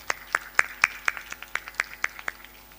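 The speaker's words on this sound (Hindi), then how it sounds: "मैं खुद ताली बजा देता हूं" A single person claps hands about a dozen times in an irregular, moderately paced rhythm, each clap sharp and close, with a short pause partway through and no voices.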